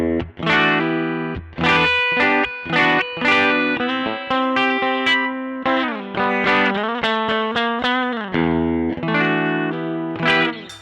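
A Fender 60th Anniversary American Standard Stratocaster on its humbucker and middle pickups plays a series of strummed and picked chords with a clean, bright tone, each ringing out before the next, steady and close.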